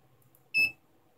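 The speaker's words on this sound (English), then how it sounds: "When I press this switch, it clicks. I mean, it's buzz because of this buzzer." A small buzzer on a DIY ultracapacitor spot welder for 18650 batteries gives one short, loud electronic beep of about a quarter second when its switch is pressed, over a quiet background.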